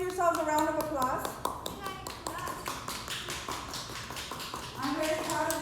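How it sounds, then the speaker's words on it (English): A group of children claps for themselves at a classroom cooking project, the applause sparse and tapping rather than a full roar, mixed with chatter and a voice over the top. "Can everybody give yourselves a round of applause?"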